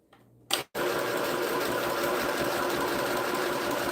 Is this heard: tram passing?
no